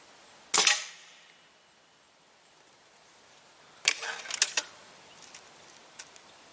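A Stoeger A30 air rifle fires two sharp snapping shots a few seconds apart, the second followed by a few short clicks and rattles, then a faint tick, against a quiet background.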